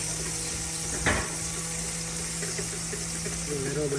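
Curry leaves and green chillies sizzle in hot oil in a pan during outdoor cooking: a steady hiss with a sharp burst of crackling as they hit the oil, over a constant background hum.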